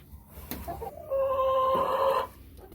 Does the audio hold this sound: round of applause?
no